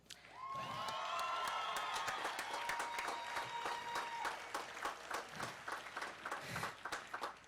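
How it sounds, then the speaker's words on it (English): Audience applause at a high school commencement ceremony, a dense, steady wash of clapping with some cheering that swells quickly and holds for several seconds before thinning into scattered claps. "okay, we can get applause for that."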